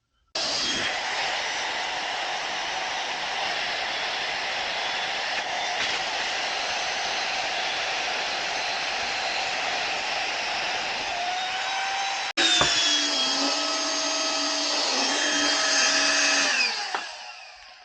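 Flextail Max Pump 3 portable air pump running on high while inflating a sleeping pad, with its nozzle pushed straight into the valve: a steady, loud whirring motor drone that lasts about sixteen seconds, shifting pitch partway through before cutting off.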